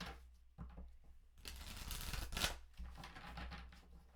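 Soft riffling and shuffling of cards, a few light flicks followed by a longer burst of shuffling, quiet and close.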